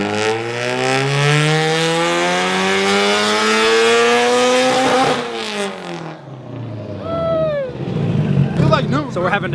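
A built SR20 engine on a dyno revs up hard, its rising pitch climbing steadily and loud for several seconds before dropping off, then blipping again more roughly near the end.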